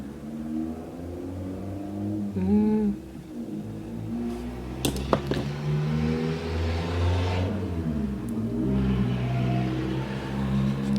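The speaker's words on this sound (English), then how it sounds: "you're gonna hear every stupid car drive by" Cars pass by outside, a steady low rumble of traffic with engines swelling and fading, heard through a window with no talking.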